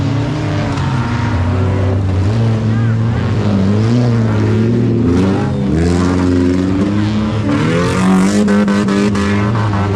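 Rally race car number 30 in a rubbish-car racing final drives past with a loud, shifting engine whine that rises and falls through gear changes, a commentator talking over it.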